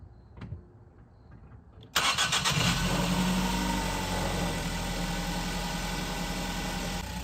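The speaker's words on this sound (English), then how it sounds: "We're gonna fire it up and hopefully the car runs and it runs good." After a near-silent pause, a manual Ford Focus Mk3 cranks and fires up close by, then settles into a steady, loud idle with a constant vibrating drone.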